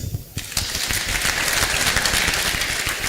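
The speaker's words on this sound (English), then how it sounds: "Another round of applause, please." Audience applause at a ceremony for midwifery professionals, broad clapping rising after a brief lull and holding steady for a few seconds, with a voice briefly heard.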